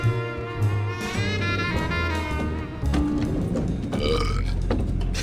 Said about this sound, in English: We walked through several areas before he burped.